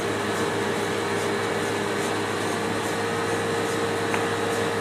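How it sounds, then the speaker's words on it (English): A CTI 8510 compressor on a high vacuum coater runs with its front and back panels removed, giving a steady, even mechanical hum with a faint tonal whine, constant throughout and unbroken by voices. "This is the CTI 8510 compressor. Right now it doesn't have the panels on the front or the back so you can see the operation."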